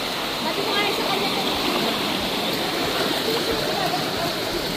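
Water flowing along a stream, a steady broadband rush that stays close and even from start to finish, with possible faint voices in the background.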